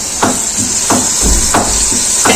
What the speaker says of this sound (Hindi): अब मैं इसके अंदर ये टमाटर ऐड कर रही हूँ।